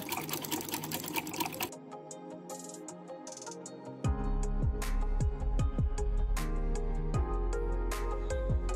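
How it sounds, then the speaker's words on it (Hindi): A sewing machine stitches the corners of a one-piece fabric cushion cover, with loud, rapid rhythmic needle clatter starting and stopping in close bursts and no talking. "उसके बाद हम दोनों कॉर्नर पे सिलाई लगाएंगे"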